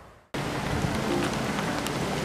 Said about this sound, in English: It's about 10:45 now, and it is raining.